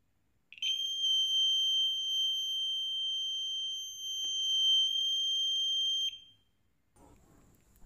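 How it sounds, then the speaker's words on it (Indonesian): A 3-24V buzzer gives one continuous, shrill, steady tone for about five and a half seconds, close and loud, then cuts off into near silence. "buzzer akan mengeluarkan bunyi bip panjang dan terus-menerus"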